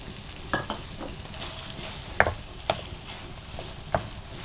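Beef masala boti frying in a pan with a steady sizzle, punctuated by a few sharp scrapes and clinks from stirring, close by and with no one speaking.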